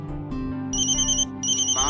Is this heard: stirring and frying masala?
no